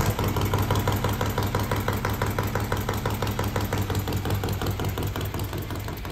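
A built 131ci Harley Twin Cam motorcycle engine idles on a dyno at its first start, a steady, loud, lumpy rhythmic throb of firing pulses filling the whole clip with no talk.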